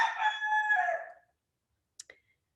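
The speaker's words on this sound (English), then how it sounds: "the roosters are going to have a little time talking to you while we're getting settled" A rooster crows once, a loud, close, drawn-out cock-a-doodle-doo lasting about a second, followed by silence and two brief faint clucks.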